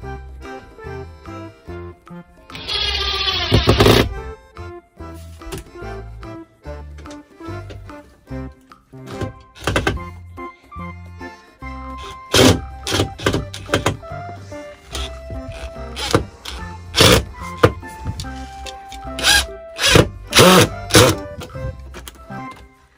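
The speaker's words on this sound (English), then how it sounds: "I'm gonna drill now" A power drill drives screws while a homemade bed is being built, with a short, rising whir near the start followed by scattered knocks, clicks and clatter of handling wood and hardware, close and uneven.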